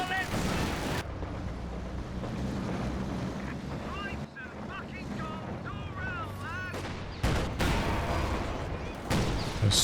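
Captured Raketenwerfer anti-tank gun firing in Company of Heroes 2, sharp booming shots cutting through a dense, loud battlefield mix of gunfire, engines and wind-like rumble, with a voice talking over it.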